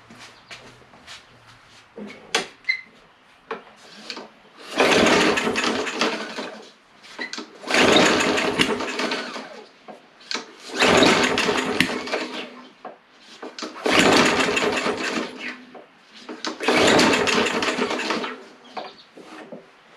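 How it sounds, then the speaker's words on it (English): Two-stroke engine on two-cycle fuel with water in it, cranked with the choke in five or six long, even pull bursts separated by pauses, with light knocks between them and no clear start. "It kind of sounded like it popped through the carb."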